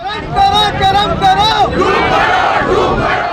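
Union protesters at a road sit-in on a main highway in Karachi chant slogans in unison, loud rising voices in short repeated calls followed by a rougher crowd roar, with wind buffeting the microphone.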